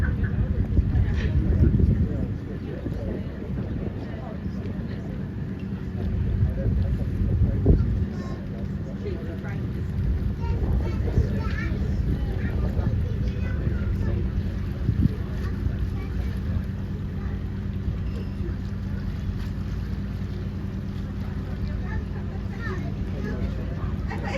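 A boat moves steadily through water with a low engine rumble and wind buffeting the microphone, while someone talks over it.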